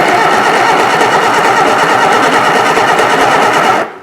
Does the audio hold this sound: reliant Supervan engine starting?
yes